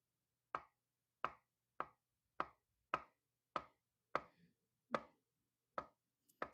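A knife cuts thin slices of ripe avocado on a board, ten crisp, evenly spaced taps coming down close and clear in a steady rhythm with no voices.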